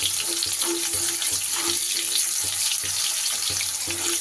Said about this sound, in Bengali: এবার ওই তেলের মধ্যেই আমি দিয়ে দেব মাঝারি সাইজের দুটো আলুকে কেটে ধুয়ে রেখেছি সেটা। এবার আলুগুলোকে একটু ভেজে আগে তুলে নেব।